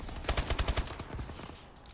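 Gunfire in the Call of Duty video game: a quick run of loud, closely spaced shots early on, then fainter scattered reports as the burst dies away.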